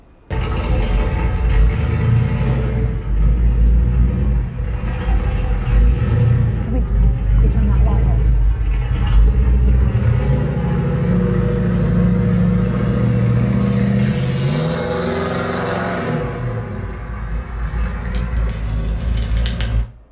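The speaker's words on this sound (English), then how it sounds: "So probably the best known one is the V8." A V8 engine runs loud and continuous, its deep throb swelling with revs and easing off over about twenty seconds.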